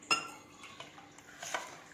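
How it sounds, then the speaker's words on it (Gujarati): A spoon stirs dosa batter with added salt and water in a metal pot, making soft, close clinks and scrapes over a couple of seconds. "ખીરાને બરાબર આપણે મિક્સ કરીશું"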